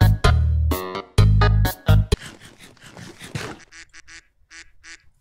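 A loud quacking duck sound effect plays during a modded Minecraft stream, several honking quacks in quick bursts at first, then trailing into a series of fainter, shorter repeated quacks.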